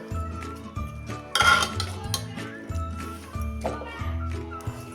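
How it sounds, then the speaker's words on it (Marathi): A spoon mashes cooked carrot halwa in a pan, giving repeated rhythmic scraping and clinking strokes with a busier metallic clatter in the middle, close and clear. "हे आता थोडं थोडं आपण असं मॅश करून घेऊया त्या चमच्यानं"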